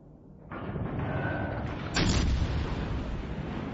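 Naval guns on a Baltimore cruiser firing armor-piercing shells in World of Warships Legends: a heavy boom opens a broad roaring rumble, and a second, louder blast lands midway, both close and sustained with no voices.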